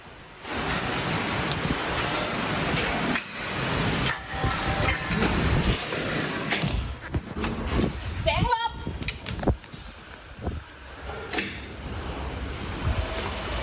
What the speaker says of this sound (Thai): อยู่บนคอนโดมิเนียมสูงๆเนี่ยฝนตกลมแรงน่ากลัวมากครับ